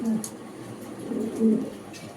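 A pigeon coos softly twice, low and murmuring, over quiet background noise.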